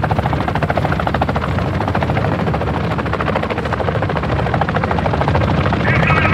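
Helicopter in Call of Duty: Modern Warfare II, rotor blades thumping in a fast, steady pulse, loud and close throughout.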